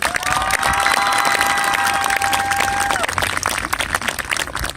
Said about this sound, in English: let's give a big round of applause for Mr. Griffey.